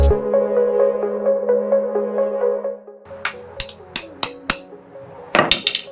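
Sharp metallic hammer strikes drive a clutch alignment tool into the flywheel pilot bearing during a BMW E36 six-speed gearbox swap, with about half a dozen spaced blows and a quick double hit, following a sustained ringing hum.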